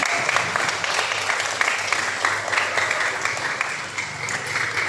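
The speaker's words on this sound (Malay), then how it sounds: "Tepukan untuk diri sendiri." Schoolchildren at a young leaders' camp closing ceremony clapping for themselves, a sustained, lively round of many small hands, moderately loud and continuous.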